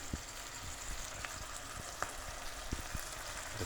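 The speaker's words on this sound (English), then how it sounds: "let it cook a while, so the sauce can get into the mushrooms" Minced meat and mushrooms simmer in a sauce in a pan, giving a soft, steady, quiet bubbling sizzle with a few faint pops and ticks.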